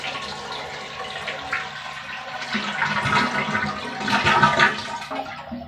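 A household toilet flushes to drain its tank and bowl before replacement, a steady rushing of water that swells and gurgles loudly toward the end, with no one talking.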